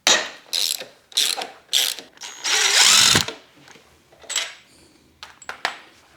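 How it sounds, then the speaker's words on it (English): A hand ratchet with a 14mm socket loosens a bolt on a 2023–2025 Kawasaki Ninja ZX-4R while fitting a crash cage, giving several close, loud bursts of rapid pawl clicking separated by short pauses, one long continuous run in the middle. "I need to back off this using a 14mm socket"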